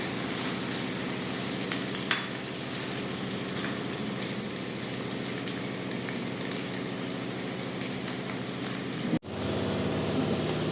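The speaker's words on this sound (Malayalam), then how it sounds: "ഇനി പച്ചമുളക് ഇട്ടു, തക്കാളി ഇട്ടു. എല്ലാം ഒന്ന് ജസ്റ്റ് മൂത്ത് വരണം." Green chillies and tomatoes fry in a pan with an even, rain-like sizzle that runs steadily throughout, briefly dipping once near the end before resuming.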